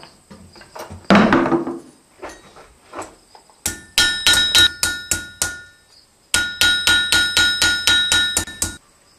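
A blacksmith hammers a copper rose: after a brief rustle, two close bursts of rapid, evenly paced metallic hammer blows ring out, each strike bright and resonant.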